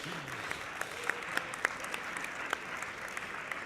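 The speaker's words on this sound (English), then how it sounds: "I think he deserves an applause from all the audience." A conference audience at a fireside chat session applauds, a fairly quiet, distant wash of steady clapping with a few sharper individual claps standing out.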